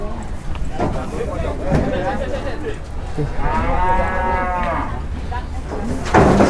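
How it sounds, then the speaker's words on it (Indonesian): Cattle moo loudly and repeatedly nearby, long low calls over a busy street scene with people talking throughout. "Ada sapi lewat ya."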